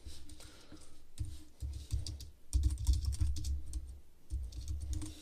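Fast typing on a cheap, slightly clicky and rattly computer keyboard, close up, with irregular bursts of key clatter and short pauses between runs, and no voice.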